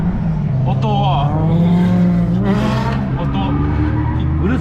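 Turbocharged car with a large aftermarket turbo running about 1.5 boost, a loud deep engine drone with rising and falling revs, heard close, while people talk over it.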